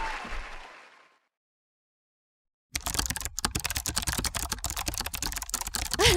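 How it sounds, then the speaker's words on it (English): Rapid, dense clatter of fingers typing on a computer keyboard starts after a short silence and carries on steadily, close and fairly loud. "You don't like the typing?"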